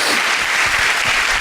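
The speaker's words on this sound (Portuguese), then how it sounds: "Aplauda Jesus," Church congregation applauding during a worship service, a loud, dense and continuous wash of many hands clapping together, filling the room without a break.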